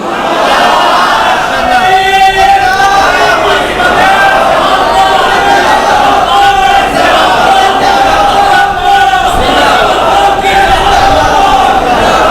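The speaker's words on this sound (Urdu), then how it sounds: "تسی کم از کم اپنے نعرے چ تے اتحاد پیدا کرو" A large crowd at a religious rally chants slogans in loud rhythmic unison, sustained and close throughout, with repeated call-and-response bursts.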